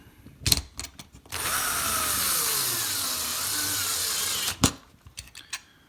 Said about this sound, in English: drop in the screw, and apply power. I'm going to put the second screw in